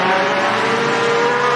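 Sport compact race cars running nose to tail out of turn 4 on a dirt oval, a loud, close, unbroken engine roar over a brief moment, with no talk.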